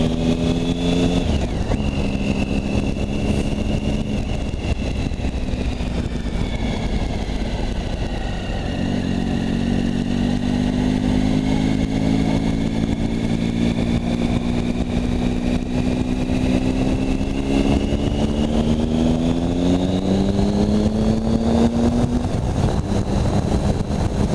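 A motorcycle engine runs steadily throughout on a cold, icy day, its pitch rising and falling as the rider shifts and accelerates, loud and close with constant road and wind noise.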